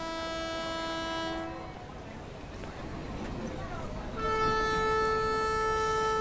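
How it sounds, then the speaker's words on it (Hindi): Karwar Express train about to depart, a loud sustained horn that cuts off, a stretch of rumbling rail noise, then the horn blaring again, with voices faintly underneath. "ये ट्रेन हमेशा करेक्ट टाइम पे ही छूटती है।"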